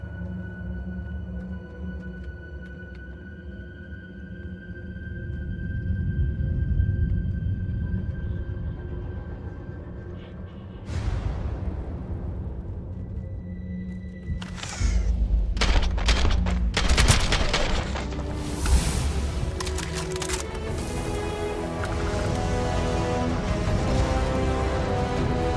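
Beowulf rifle firing in the video game Starfield, heard as a burst of loud gunshots starting partway through, followed by further dense rapid shots and booming reverberation over a low ambient game hum.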